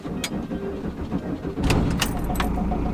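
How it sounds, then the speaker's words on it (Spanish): A 1985 Volkswagen T3 van engine cranks briefly with a few clicks, then catches and settles into a steady, close idle rumble. "Vamos a ver si arranca de una perfecto."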